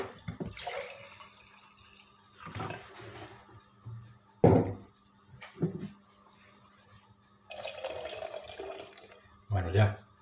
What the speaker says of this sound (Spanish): vamos a echar un poquito más de agua